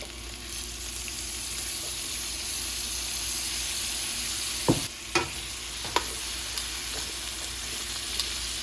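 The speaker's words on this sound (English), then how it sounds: "we're gonna add 1 large onion that we have already chopped up inside of the skillet" Chopped onion fries in chicken drippings in a skillet with a steady, even sizzle, broken by a few sharp clinks and scrapes of stirring partway through.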